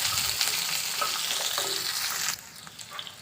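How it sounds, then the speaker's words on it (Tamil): Onion, curry leaves and garlic fry in a pan with a loud, dense, crackling sizzle that drops suddenly to a softer hiss near the end, with faint stirring. "வெங்காயம் வந்து கண்ணாடி பத அளவுக்கு வதங்கணும் அது வரைக்கும் வதக்கி விட்டுடலாம்"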